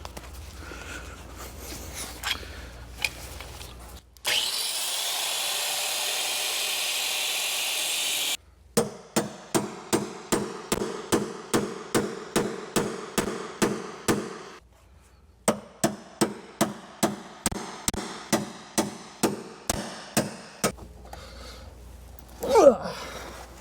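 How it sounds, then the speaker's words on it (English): Hammer blows drive a chisel to pop loose a stitch-welded bump stop tower on a Jeep WJ front end, sharp metallic strikes coming in rapid regular bursts of about a dozen hits each, close and loud, with a brief burst of grinding or scoring before. "put a chisel in there, and pop it loose"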